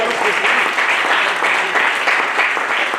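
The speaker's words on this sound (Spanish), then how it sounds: "es digno de darle un aplauso al Señor" A church congregation applauds loudly and steadily, a dense wash of many hands clapping together in praise, filling the room with little sign of speech.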